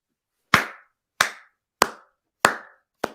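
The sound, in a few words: person clapping hands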